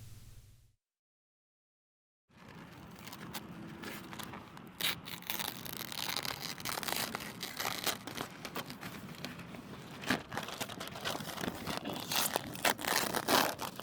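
Newspaper and masking tape peeled slowly off freshly painted car bodywork during a roadside paint repair, close crinkling and tearing rustle continuing steadily after a brief silence.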